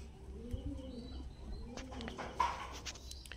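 Blue bar pigeons coo softly in a loft, low rolling calls repeating a few times at a quiet, moderate distance, with faint rustles and a brief chirp.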